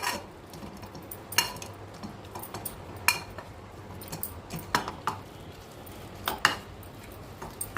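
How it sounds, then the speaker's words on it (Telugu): Boiled dal cooked with boneless chicken is mashed in a steel pot, with irregular scraping and clinking strikes against the metal at close range and quiet gaps between them. "ఉడకబెట్టిన చికెన్ ఉన్న ఈ పప్పును ఫస్ట్ ఇలా మెత్తగా చేసుకోవాలండి"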